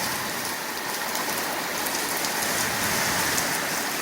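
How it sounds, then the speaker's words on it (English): Heavy rain pours down steadily, a dense, continuous hiss of drops hitting surfaces nearby, with no voices. "It's raining really heavy."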